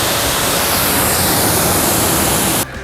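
Water from a hose or sprayer rinsing bug splatter off a car, a loud continuous rushing spray held steady, then cutting off abruptly near the end.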